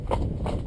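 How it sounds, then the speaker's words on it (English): A horse under saddle trots downhill, giving a brief close burst of two or three muffled hoof strikes on the ground. "she's able to trot down the hill without speeding up because she's trying to catch up with her weight"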